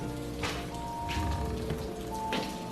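Steady rain falls on surfaces, with dense, continuous patter and a few louder drops or splashes standing out at intervals.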